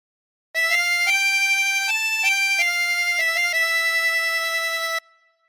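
A 24-hole tremolo harmonica plays a phrase of a song, a sustained run of wavering reedy notes changing pitch several times, heard alone and clearly before it stops abruptly.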